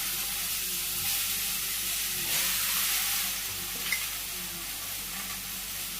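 Bottle gourd pieces sauté in a pan on a village kitchen stove, giving a steady, close sizzle with soft stirring scrapes throughout, no voices.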